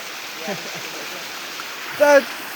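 Water flows steadily at a village spring in the forest, a soft continuous rushing hiss with a brief voice-like sound near the end.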